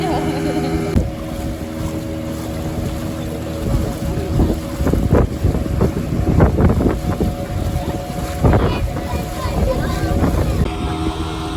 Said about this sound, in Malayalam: നമ്മുടെ ബോട്ടിങ് ഇവിടെ ആരംഭിക്കുകയാണ് കേട്ടോ.